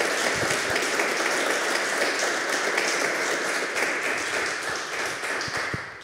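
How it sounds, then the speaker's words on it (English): An audience at a men's conference applauds warmly, a thick continuous wash of many hands clapping that holds steady throughout and thins slightly near the end. "I think you should put your hands together and give them a warm"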